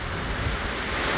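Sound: wind at the seashore

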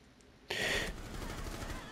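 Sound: gunshots in the video game Rainbow Six Siege

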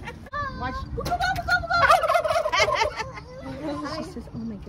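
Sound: turkey gobbling

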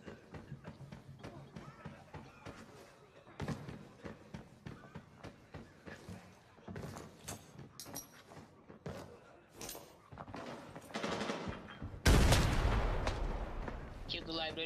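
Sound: gunfire in Arena Breakout video game

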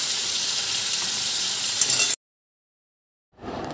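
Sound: black cumin and dried chillies sizzling in hot oil

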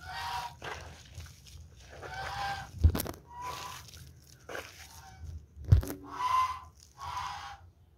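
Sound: geese and jumbo Muscovy ducks being fed

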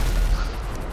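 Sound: tank cannon fire hitting walls in video game GTA Online

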